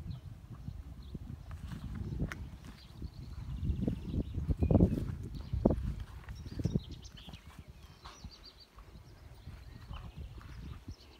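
A large mare and other horses eating grain on a farm in the Stryi region of Ukraine shuffle and clop their hooves close by, with irregular knocks and rustling over a busy outdoor background.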